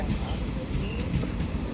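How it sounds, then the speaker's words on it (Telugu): Villupuram intercity express train hauled by a WAP-4 electric locomotive rumbles at a platform, a loud continuous low roar with faint wheel squeal and clatter, and a voice is barely audible beneath. "వ్యాప్ ఫోర్ లోకోమోటివ్ అయితే విలుపురం ఇంటర్సిటీ ఎక్స్ప్రెస్ ట్రైన్ ఇది"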